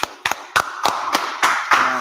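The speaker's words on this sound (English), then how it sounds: "Everybody clap it up." Audience clapping at a scripture teaching gathering, a series of sharp separate hand claps in an uneven rhythm, fairly close, with a low murmur of voices between them.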